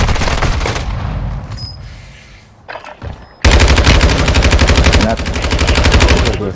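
Call of Duty Modern Warfare 2 gunfire: loud, close automatic bursts open, fade to scattered shots, then a long sustained rapid-fire stream resumes, with brief talking amid the shooting.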